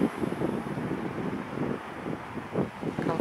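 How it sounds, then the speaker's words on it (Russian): Strong, steady wind buffets the microphone on a seashore in Ashe on the Black Sea coast near Lazarevskoye, a continuous broadband roar with gusty swells and no speech. "Большой ветерок, но совсем-совсем не холодный."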